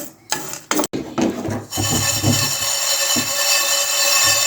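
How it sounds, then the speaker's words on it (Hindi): Whole spices such as coriander and cumin dry-roasted in a pan over low heat, with rough scraping and rattling strokes of a spoon at first, then a steady dense sizzling hiss, loud and close, with no voices. "तो इसको हल्की आंच पे हम भून लेंगे।"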